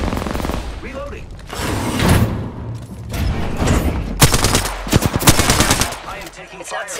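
Automatic weapon fire from the Apex Legends video game crackles in rapid bursts and sharp single shots, loud and close, with brief pauses between volleys and no talk.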